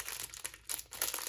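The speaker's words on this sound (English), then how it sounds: "I don't want to rip this sticker." Sticker being peeled carefully off a diamond painting kit, a close crinkling, crackling peel in several short bursts with brief pauses, alone without talk.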